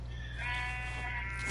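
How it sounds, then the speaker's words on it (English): A sheep in a video game bleats in one sustained, wavering cry over a steady low background hum, with no talk. "I hear sheep"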